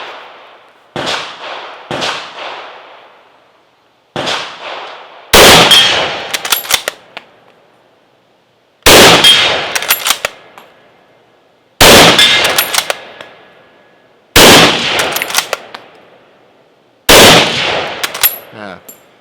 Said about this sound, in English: I'm going to take some more shots at that 90 yard steel